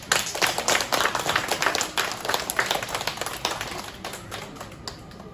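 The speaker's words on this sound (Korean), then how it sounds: "여러분 스스로에게 큰 박수를 한번 보내주십시오." An audience at a poetry lecture in a Busan bookstore claps in dense, crackling applause. It stays lively, then thins and fades toward the end, with no talking over it.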